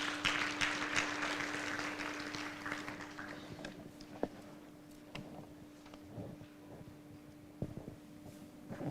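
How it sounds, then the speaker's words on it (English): Conference audience at a safe motherhood event applauds as a doctor comes to the front. Dense clapping is loud at first, then thins to scattered claps and footsteps over a steady hum. "Probably clap as she comes."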